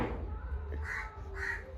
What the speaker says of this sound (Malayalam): ഒരു സമാധാനം തരാതെ കരയുന്നുണ്ട്